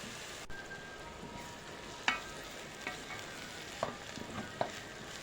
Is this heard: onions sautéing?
yes